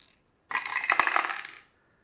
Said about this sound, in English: So we're going to roll those dice, like I said.